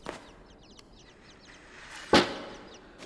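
Little birds chirp softly in the game Inside, brief twittering calls in the distance, interrupted by a loud thud near the end.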